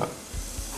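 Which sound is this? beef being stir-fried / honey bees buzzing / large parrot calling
beef being stir-fried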